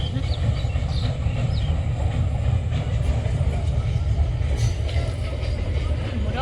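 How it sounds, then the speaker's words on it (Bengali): A train rumbles past close by, a steady loud low roar that fills the whole moment, with voices faintly mixed underneath. "মোটামুটি এখানে সবসময় ট্রেনের আওয়াজ"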